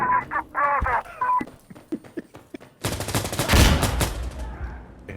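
Gunfire in the realistic shooter game Insurgency Sandstorm on Xbox Series X: scattered sharp shots, then a dense, loud burst of rapid fire over about two seconds that fades into echoing tail.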